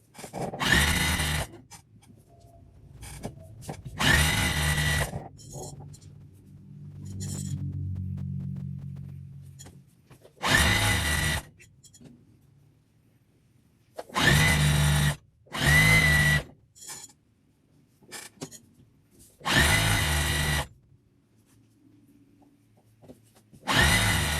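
A sewing machine back stitching along the edge of an infinity scarf, running in repeated short bursts of whirring stitching separated by pauses, close and fairly loud, no talking.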